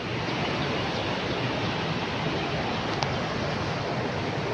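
River water flows steadily in Kuala Lumpur, a broad, even rushing wash that stays constant and fairly close throughout, with no voices.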